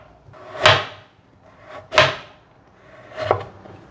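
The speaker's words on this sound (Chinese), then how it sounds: "把红萝卜斜切成片" A peeled 90-gram carrot is sliced diagonally with a knife on a cutting board: three separate, evenly spaced thuds about a second apart, close and clear, with no talking.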